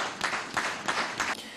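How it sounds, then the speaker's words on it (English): Audience applause at a public event, heard as a short burst of clapping that swells in several rolling waves over under two seconds, fairly close and evenly loud, with no talking over it. "I will kindly request that we applaud their efforts."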